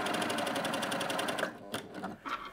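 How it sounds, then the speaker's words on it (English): A Baby Lock Primo coverstitch machine runs under foot-pedal control in a steady close whir for over a second, then stops and leaves a few soft clicks and handling noises. "So if I just sew now normally with the foot control"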